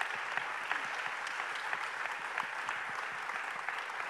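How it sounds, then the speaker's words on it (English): Steady applause from a meeting audience for a panel of speakers, moderately quiet and continuous with dense overlapping claps throughout. "let's give the panelists a hand of applause"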